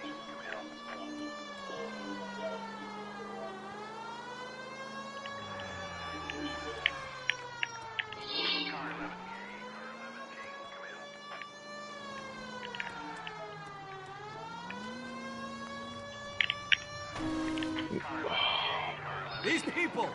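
A police car siren in a PS4 video game wails in long, steady rising and falling sweeps for the whole stretch, while someone talks over it and faint clicks and bumps sound beneath.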